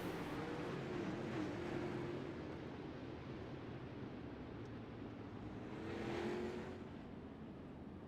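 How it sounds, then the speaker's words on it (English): Sprint cars in the iRacing sim racing game idle along at low speed under caution at Lanier, giving a steady, muffled engine drone that swells slightly near the end. "So cars just pulling up here on the exit of turn number 4 as they wait for the iRacing.com pace truck to come back out onto pit road"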